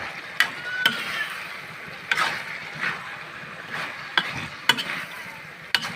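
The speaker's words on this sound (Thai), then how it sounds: "ผัดเผ็ดทั่วนะครับ ผัดเผ็ดทั่ว" Pork and long beans stir-fry with curry paste and makrut lime leaves in a pan: a soft continuous sizzle broken by sharp, irregular spatula scrapes and clacks, close by.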